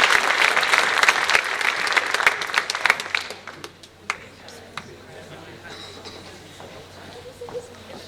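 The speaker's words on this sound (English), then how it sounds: "Let's have one more round of applause for all of the new" An honor society induction audience claps loudly for about three seconds, then the applause thins to a few scattered claps fading into a quiet room.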